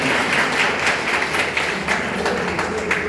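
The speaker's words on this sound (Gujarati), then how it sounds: "ત્યારે આપણે સૌ તેમનું તાળીઓથી સ્વાગત કરીએ" An audience applauding to welcome five sisters at an institution's gathering, loud sustained clapping from many hands that holds steady for about three seconds, with faint speech mixed in.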